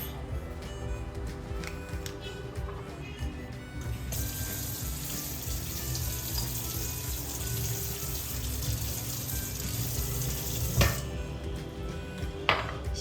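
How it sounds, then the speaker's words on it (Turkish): Four tablespoons of water are poured in a kitchen as a cooking step, heard as a steady rush of running water for several seconds amid a constant background of clinking dishes and utensils. "Şimdi önce 4 yemek kaşığı su koyuyorsunuz."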